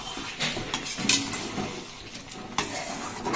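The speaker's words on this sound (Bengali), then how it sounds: "দেখো মাংস কষাচ্ছি।" Chicken meat being stirred and fried in a pan, a spatula scraping and clinking against the metal in irregular strokes over a low sizzle, close and moderately loud with no talking.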